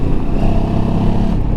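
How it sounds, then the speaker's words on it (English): Benelli TRK 702X motorcycle engine running with a steady, throaty rumble, close and loud throughout with no speech over it. "Engine sounds alright, quite throaty."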